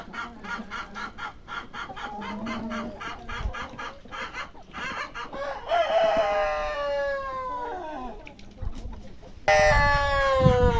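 Chickens cluck and squawk up close, with rapid repeated clucks early and a loud rooster-like crow near the end; a voice speaks briefly in Ukrainian.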